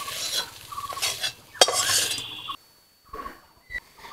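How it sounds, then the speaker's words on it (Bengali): Soya chunks fry in a pan with salt, chili and turmeric, a close sizzle broken up by the scrape and clatter of a spatula stirring against the metal, with a brief quiet gap before the stirring starts again. "ব্যাস 1 মিনিট মতো ভেজে নামিয়ে নিতে হবে, বেশি সময় ভাজলে আবার সয়াবিনটা শক্ত হয়ে যাবে।"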